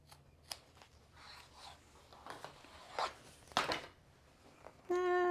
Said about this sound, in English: we're going to cut that out about a 1/4 inch away from the sewing line